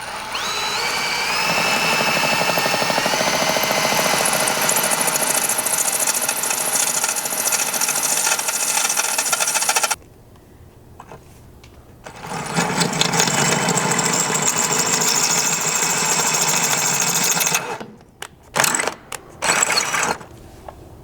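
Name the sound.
drilling hole in vehicle pinch seam with drill bit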